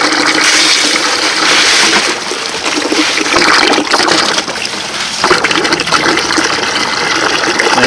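Water gushes under pressure through a heater core hose on a Ford Expedition with a 4.6 engine, a loud, continuous rushing and splashing flow that runs the whole time with no pauses.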